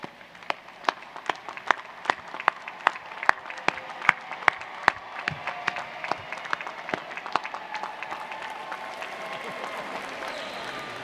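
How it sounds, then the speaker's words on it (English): An audience at a Florida State University commencement ceremony claps, with loud, sharp, evenly spaced hand claps at first that merge into broad, sustained applause filling a large hall. "let's salute them with our applause"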